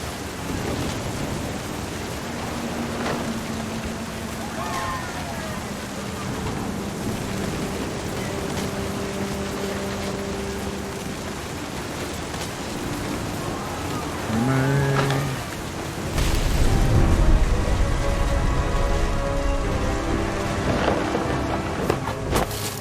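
Rain and thunder in the video game What Remains of Edith Finch: a constant hiss of rain with some faint tonal sounds over it, then a heavy low rumble that swells near the end.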